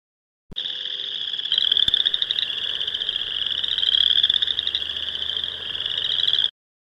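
Chorus frogs in a Wisconsin frog and toad survey give a loud, continuous chorus of overlapping trilling calls that never breaks, steady from start to finish with no voices.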